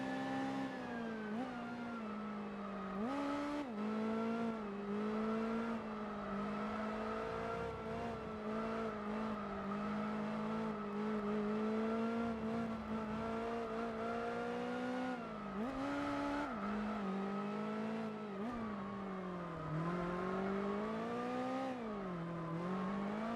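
Race car engines in Gran Turismo 4 scream and rev continuously, pitch climbing through the gears and dropping on shifts, loud and steady without talk.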